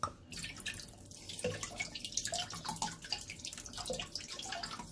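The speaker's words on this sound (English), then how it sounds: "We're going to add vinegar." Vinegar is poured into a pot at corned beef and cabbage cooking time, a faint trickling, dripping liquid sound that runs unsteadily throughout, close by and quiet.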